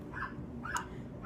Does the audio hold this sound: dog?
yes